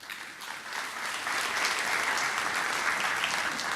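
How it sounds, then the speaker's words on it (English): Audience applause at a Trinidad and Tobago Diamond Standard awards ceremony, a dense continuous clapping that swells after the first second and holds steady. "we salute you with a round of applause"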